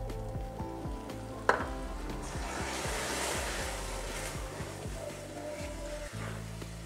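Myrtle liqueur poured into a hot pan of cooking Sardinian sospiri mixture, a soft continuous sizzle and bubbling with occasional spoon knocks close by.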